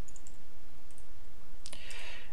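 A computer mouse clicks a search button, heard as a few small, sharp clicks over a steady background hiss, with a light cluster of clicks near the end.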